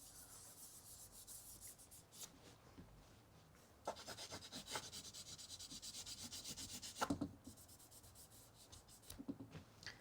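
Charcoal rubbed across paper during drawing, a soft, close scratchy rasp coming in repeated strokes, quiet at first and then denser and busier.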